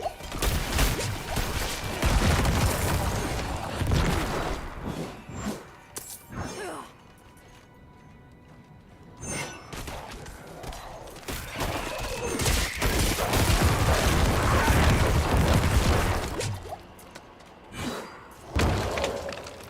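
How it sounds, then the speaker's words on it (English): Corpse bomb explosions in a video game, a long run of loud crashing blasts and shattering debris in repeated bursts, with brief quieter gaps between them. "Do you love the explosion in the game?"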